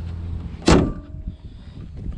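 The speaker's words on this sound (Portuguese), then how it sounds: "Deixa eu fechar aqui o capô" Chevrolet Tracker Premier hood slammed shut once, a single loud close-up thud with a short metallic ring, then quiet.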